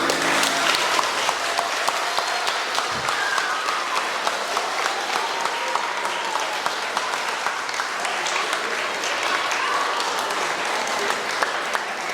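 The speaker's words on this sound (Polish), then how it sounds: "jeszcze raz wielkie, gromkie brawa dla klasy czwartej A" A school hall audience gives steady, loud applause for a fourth-grade class at a school patron's day event, continuous clapping filling the whole stretch with a faint voice briefly under it.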